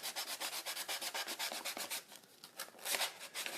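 Wood fidget spinner rubbed by hand with fine sandpaper, around 500 grit, giving close, steady back-and-forth scratchy strokes in a quick rhythm, briefly faltering before resuming.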